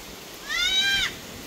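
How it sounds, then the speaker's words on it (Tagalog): A single short, nasal bleat from a goat by the sea on a windy day, fairly close, rising and wavering for about half a second over a steady outdoor background hiss. "Itong kambing na itong napakaingay guys"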